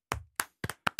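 Hands clapping in applause, six sharp, close claps at an uneven pace, with no one talking.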